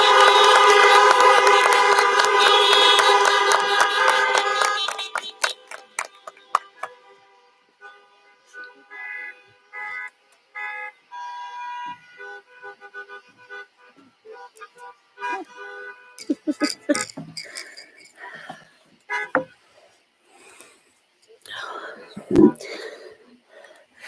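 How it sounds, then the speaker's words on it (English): Car horns honk at a drive-in college graduation ceremony for the class of 2020, a dense loud chorus of sustained horns at first, then scattered shorter honks fading in and out. "Please join me in honking your horns and flashing your headlights"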